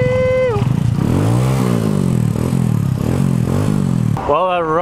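Motorcycles riding along a road in Vietnam, loud close engine drone with shifting pitch as bikes accelerate, under continuous wind buffeting and a rising voice near the end.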